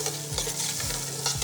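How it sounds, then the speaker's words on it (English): Wooden spoon scraping and stirring the bottom of a pot of beef stew deglazed with red wine, repeated strokes over a steady hot sizzle, close and alone. "We want to go ahead and scrape up all that flavor from the bottom."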